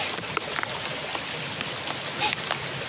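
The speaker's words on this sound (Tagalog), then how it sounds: "Dahil malakas ang ulan, kahit ulan." Heavy rain pours outdoors in a steady, dense hiss that stays close and even throughout, with no clear break in the downpour.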